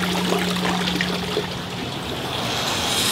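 Water runs from a pulpulak, an Armenian street drinking fountain, in a steady, close trickle with no pauses, a low hum underneath, and no talking.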